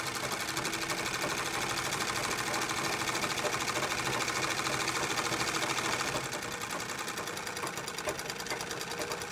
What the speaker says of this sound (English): And you can actually go quite fast as you can treadle.